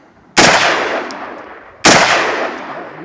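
Two loud, close AR-15 rifle shots about a second and a half apart, each a sharp crack followed by a long decaying echo outdoors.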